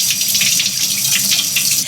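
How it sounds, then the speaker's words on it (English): Tap water runs steadily into a kitchen sink during hand washing after cutting garlic, a close, continuous splashing gush with no talk. "So let me wash off my hands."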